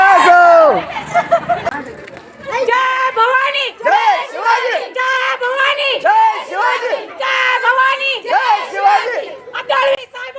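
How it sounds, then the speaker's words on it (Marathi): A village crowd erupts in loud, repeated cheers and whoops at a panchayat election victory rally, with overlapping shouting voices rising and falling in bursts, close and continuous throughout. "त्यांच्या विजयाचा जल्लोष आणि जी रॅली निघणार आहे"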